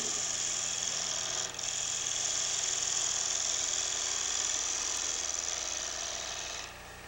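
A wood lathe spins steadily with a thin, high whine and a soft scraping buzz as the tool rides the surface of a hollow wooden ornament ball, fading slightly at the end.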